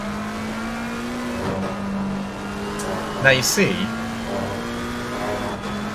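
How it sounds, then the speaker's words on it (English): McLaren GT3 race car engine in a sim racing game at Misano, a steady, close droning note with a brief dip and shift partway through, while someone talks over it. "Let's just listen to a McLaren for a bit."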